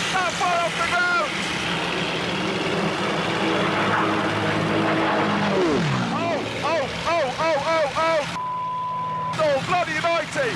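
A fast aircraft sweeps past low over the desert near Las Vegas, a loud droning roar that swells and drops in pitch as it passes, with excited voices over it.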